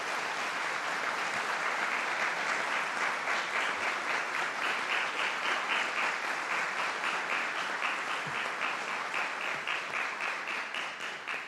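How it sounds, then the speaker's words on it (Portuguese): Sustained applause from an audience at a forum, honoring Minister Alexandre; dense, steady clapping fills the whole stretch at even loudness with no speech over it. "a quem peço uma salva de palmas pelo seu papel no nosso país"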